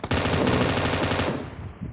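A loud, rapid burst of automatic gunfire from the mobile game PUBG Mobile rattles on for over a second, then quickly trails off.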